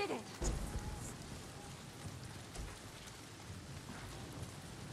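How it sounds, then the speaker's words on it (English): Steady rain falling in a stormy outdoor game scene, a continuous broadband hiss with a few low thuds near the start, fairly even throughout. "Good thing it rained too"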